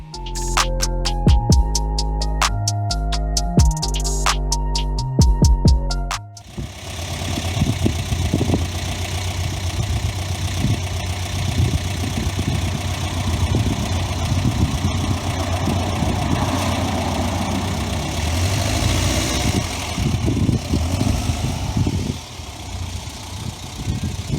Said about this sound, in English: There's the exhaust there, makes a really good sound.